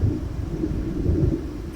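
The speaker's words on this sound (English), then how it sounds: "It seems there's a storm coming." Thunder from an approaching storm in the Alan Wake video game rolls as a steady low rumble, moderately loud and continuous, with no voices.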